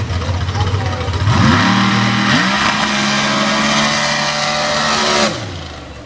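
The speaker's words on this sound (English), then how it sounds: "Let's see what Chris has here in the paddle tire class aboard Night Shift." A blown alcohol drag racing car in the paddle tire class makes a run, its loud engine roaring steadily for several seconds before cutting off abruptly near the end.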